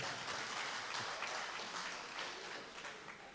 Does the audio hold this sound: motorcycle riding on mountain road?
no